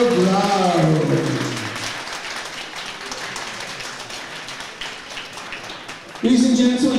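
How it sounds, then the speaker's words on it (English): Applause and clapping from a crowd at a schoolboy and junior boxing championship, a steady wash of hands under an announcer's voice that starts and ends the stretch. "keep the applause going for our silver medalist from Garshiel's Boxing Club"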